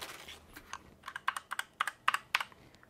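GM610 budget custom gaming keyboard typed on, a quick run of soft clacky keystrokes, close and fairly quiet, with no talking.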